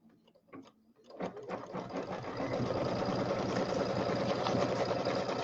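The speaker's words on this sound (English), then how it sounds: "And then we're going to sew out the tack down line." An embroidery machine stitches the tack down line on a St Patrick's Day settee pillow, starting with a few soft clicks before settling into a steady, rapid mechanical whir that runs on alone at moderate volume.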